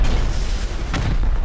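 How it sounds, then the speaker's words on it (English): Rocket blasts from a raid on a base compound in the survival video game Rust, heavy low booms rolling continuously with a sharper burst near the middle, loud and dense with no talking. "Okay, let's start rocketing. We gotta get compound open. I'm gonna rocket left"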